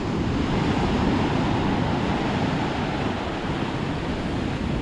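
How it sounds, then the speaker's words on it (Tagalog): Large sea waves roll in on the shore, a loud, continuous broadband roar with heavy wind buffeting the microphone and no breaks or voices. "Malalaki ang alon dito."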